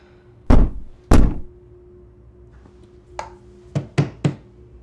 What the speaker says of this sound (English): The room next door to me keeps banging on the wall.